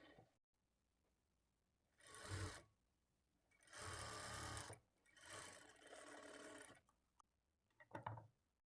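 Sewing machine stitching a hook strip onto a princess-cut lehenga blouse, running in three separate bursts of steady mechanical whirring with short quiet gaps between them, no voices.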